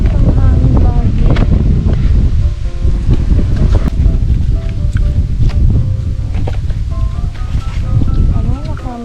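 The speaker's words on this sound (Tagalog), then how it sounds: "Ang hangin lagi." Strong wind buffets the microphone at a high outdoor viewpoint, a loud gusting rush that fills the whole clip with uneven surges.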